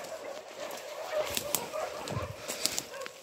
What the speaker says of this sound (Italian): È partito un concerto di cani.